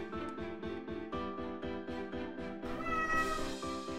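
Repeated cat meows in a video game, in a steady, evenly spaced rhythm with synthetic, game-like tones, ending in a brighter, higher-pitched cry.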